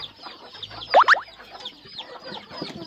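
Chickens clucking as they peck at coriander, soft scattered clucks with a couple of louder sharp calls near the middle, close by and without talk.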